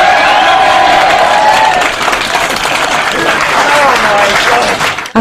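TV studio audience breaking into loud, sustained applause with some cheering, the clapping staying dense and steady before cutting off abruptly, with a presenter's voice heard over it.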